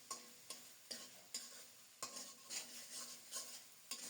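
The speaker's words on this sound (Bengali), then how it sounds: "এভাবেই ঢেকে ঢেকে নেড়ে চেড়ে খুব সুন্দর মতো শুটকিটা রান্না করব" Dried fish with onion and garlic fries in a covered pan while a spatula scrapes and stirs, a series of about ten quiet rhythmic strokes over a soft sizzle.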